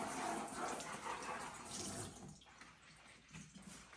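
A tap runs water over a cleaning cloth, giving a steady gushing hiss that is strongest at first and then thins into softer splashing and dripping, faint and close.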